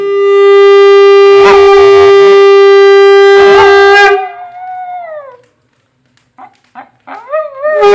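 At a Kala Bhairava shrine in Thiruvannamalai, a long, loud conch blast sounds twice, then a dog lets out a falling howl, followed by a few short yips and barks.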